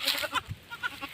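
A goat, one of a father's herd that gave birth in the forest, bleats in several short, close calls with brief gaps between them.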